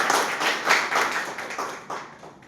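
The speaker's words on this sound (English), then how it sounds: "A round of applause for all the speakers." A small audience applauds speakers at a speaking event, a brief patter of claps in uneven bursts that fades toward the end, fairly soft and somewhat distant.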